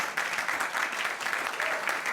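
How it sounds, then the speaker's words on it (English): A studio audience applauds steadily throughout, a dense, fairly loud wash of clapping with no voices standing out. "Oh, they're going to applaud."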